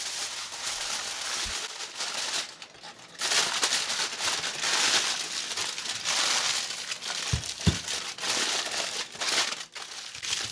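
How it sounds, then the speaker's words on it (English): Aluminum foil crinkling as a second sheet is pressed over a baking dish of butternut squash, a close, continuous crackling rustle that swells louder midway with a few sharper crunches. "put another sheet of aluminum foil on top"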